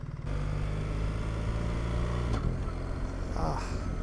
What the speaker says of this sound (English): It sounds like a diesel engine, not like tractor particularly.